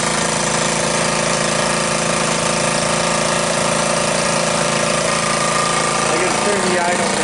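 A 1984 Honda ATC200M three-wheeler that runs badly idles close by with a steady, rough, continuous engine drone, its uneven idle the only sound.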